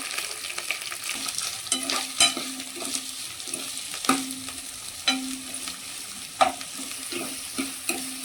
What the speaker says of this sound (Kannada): ಎಣ್ಣೆ ಕಾದ್ಮೇಲೆ ಇವಾಗ ಕರಿಬೇವು ಹಾಕ್ಕೊಳ್ತಿದ್ದೇವೆ. ಮತ್ತು ಆನಿಯನ್ ಆ್ಯಡ್ ಮಾಡ್ಕೊಳ್ತಿದ್ದೇನೆ.